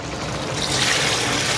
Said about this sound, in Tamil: உலைக்கு தண்ணி ஆட் பண்ணிக்கலாம்